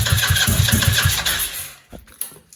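A drowned buggy's engine fires up with the brake bypass unplugged, a loud, close, rapid chugging that runs steadily, then drops off abruptly into quiet with a few faint knocks.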